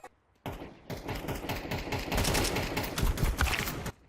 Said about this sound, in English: He had a weird rhythm of shooting, right?